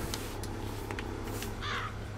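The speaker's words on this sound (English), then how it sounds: "Yeah, that's a lot of crows." Crows cawing in the video game Bioshock Infinite, a few short harsh caws from a flock heard alone over a steady low ambient hum.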